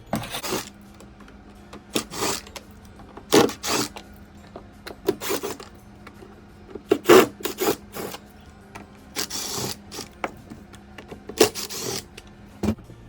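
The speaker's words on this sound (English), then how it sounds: "There will be 8 screws that need to be removed." Eight screws are being backed out of an X3 pump lying on its back: a series of short rasping, grinding bursts separated by brief pauses, close and fairly loud.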